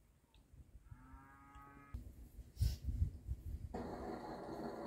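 Cows on a farm give low, drawn-out moos, one near and harmonic, followed by snorting, breathing and rustling close by, with no talk.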